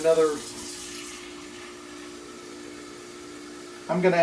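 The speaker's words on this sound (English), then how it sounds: "We're going to start with 6 cups of water" Tap water runs steadily into a cooking pot for a New England boiled dinner, a continuous rushing stream lasting several seconds, with someone speaking briefly just before it starts and again as it stops.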